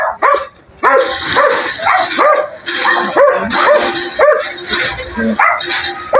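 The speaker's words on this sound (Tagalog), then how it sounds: "Nalubog na kami ng aso." Dogs bark loudly and repeatedly at close range during a neighbourhood fiesta in Alabang, with sharp, overlapping yaps and an occasional whimper.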